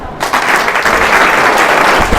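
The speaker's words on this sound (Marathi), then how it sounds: "तर मग जोरदार टाळ्या" A quiz show audience breaks into loud, sustained clapping, dense and close, filling the whole stretch with no talking over it.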